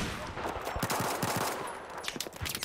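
Gunfire crackling in a Battlefield 4 multiplayer Rush match, a rapid string of shots and bursts at moderate distance, with a player's voice faintly mixed in.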